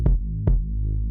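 Two deep, punchy kick drum hits land with a sustained low bass underneath that dips at each kick and swells back between them, giving a subtle pumping, sidechain-ducked feel.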